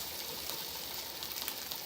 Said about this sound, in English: sizzle, you hear the sizzle?